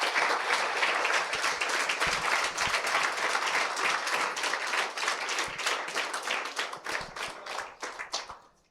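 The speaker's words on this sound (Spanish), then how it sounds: "Den un aplauso al Señor, querida iglesia." A church congregation in Cancún applauds during a Sunday service, with loud, dense clapping from many people close by that holds steady for several seconds and then thins out and fades at the end.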